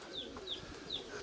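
Pigeons on a rooftop in winter: a few soft, short calls at an even spacing, thin and fairly distant over a steady background hush, with no one talking.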